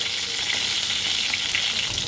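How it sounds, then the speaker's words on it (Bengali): Eggplant pieces fry in oil left over from frying hilsa fish, a loud, steady crackling sizzle heard up close with no talking. "মাছ ভাজা তেলের মধ্যে আমি দিয়ে দেব বেগুনগুলো।"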